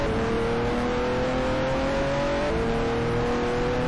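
A racing car engine drones loudly at Monza in the Speed Dreams game, a steady rising whine held under throttle that dips briefly at a gear change and then climbs again.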